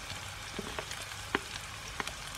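Onions and garlic fry in a pan with a soft, continuous sizzle broken by a few scattered sharp crackles and pops, close and fairly quiet.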